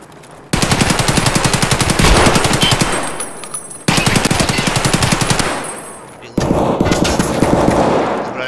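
Loud, close automatic gunfire in Escape from Tarkov, with rapid sustained bursts that stop abruptly and start again, three long volleys in a row with no talking.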